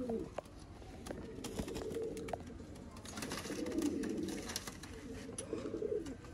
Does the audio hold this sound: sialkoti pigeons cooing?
yes